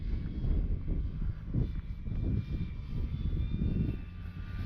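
A Dynam F6F Hellcat radio-controlled model warplane flies in windy weather, its propeller motor a steady buzzing drone that swells and fades slightly as it passes at a moderate distance.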